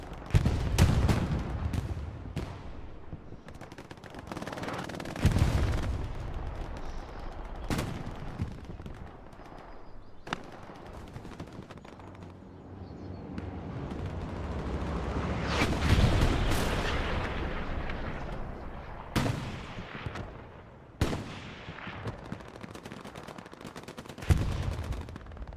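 Battlefield gunfire in Hell Let Loose, a World War II shooter, with sharp close shots, bursts of machine gun fire and heavy artillery booms scattered irregularly over a rumbling background, loud near reports mixed with more distant blasts.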